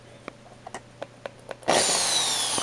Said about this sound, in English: Plug the drill into the back.